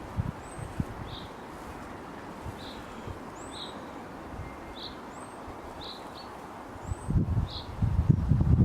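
Outdoor wind rushes steadily across the microphone, swelling into louder gusts near the end, with faint birdsong chirping in the distance.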